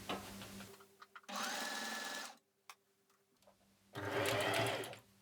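A sewing machine stitches a bulky fabric seam in two loud, steady whirring runs separated by a quiet pause with a few faint clicks, with no talk.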